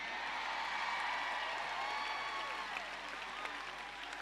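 Congregation applauding during a church worship service, a steady dense wash of clapping that holds loud for several seconds and eases slightly toward the end, with faint crowd murmur beneath.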